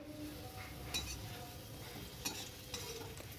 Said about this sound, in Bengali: মিষ্টি আলুগুলো ভাজা হয়ে গেছে, এবার তুলে নেব